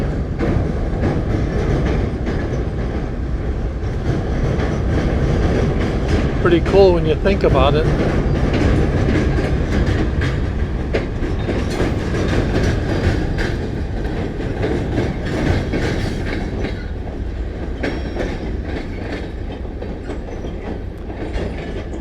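A train rumbles across a railway bridge over the Caloosahatchee River, a steady loud rolling roar with rhythmic clacking and a brief metallic squeal, heard from nearby on the water while a person talks over it.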